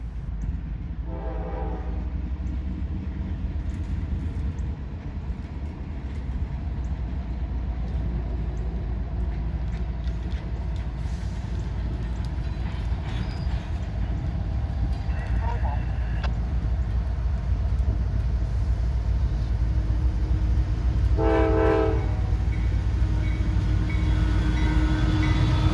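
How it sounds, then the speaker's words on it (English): A local freight train, L729, rolls past continuously with steady rumbling wheel and engine noise, and its horn sounds in short blasts near the start and again later, under occasional voices. "here comes that runaround train, another local"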